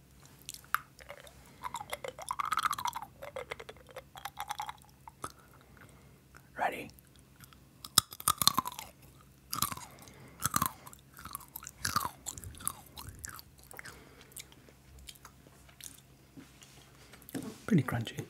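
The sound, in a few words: crunchy hazelnut being chewed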